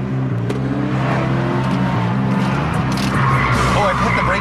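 A car skids through a J-turn with the e-brake pulled, tires squealing loudly against the pavement over a revving engine while an instructor talks over the maneuver.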